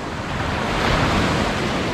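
Sea waves at Coro beach in Tulungagung, Indonesia, a loud continuous wash of surf mixed with strong wind buffeting the microphone, no talk over it.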